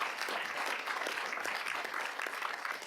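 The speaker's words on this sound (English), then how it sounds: "Let's have a round of applause for families." Steady applause from a meeting audience honouring families at a governing body session, a dense wash of clapping that holds at an even level throughout without pauses.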